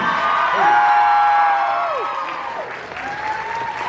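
Applause from an audience at a student skits and awards event, clapping with cheers and whoops rising over it, loud at first and easing slightly toward the end.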